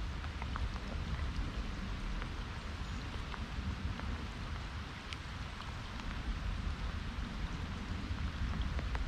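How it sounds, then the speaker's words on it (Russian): Steady light rain pattering and dripping all around on a river while salmon fishing, with scattered individual drops standing out against a soft continuous hiss; no voices. "Капает дождик"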